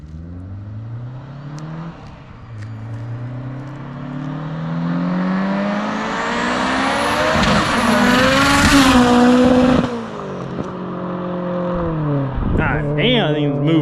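An 1100 whp Subaru Forester STI accelerates hard past on a street, its loud engine note rising and sweeping through gears as it nears, roars by and pulls away, with voices faintly around.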